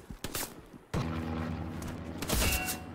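Gunfire crackles in the World War II shooter game Hell Let Loose: sharp close shots and bursts, then a heavy, sustained rumble of distant firing and explosions.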